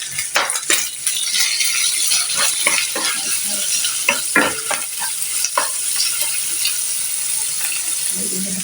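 Fried rice stir-frying in a home kitchen pan, a steady sizzle with repeated scraping and clattering strokes of a utensil throughout, loud and close, with a brief low voice near the end.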